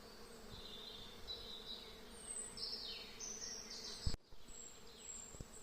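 A steady, soft hum of many bees fills a forest among flowering linden trees, with individual buzzing insects drifting closer and away and a brief knock near the end, all faint and distant.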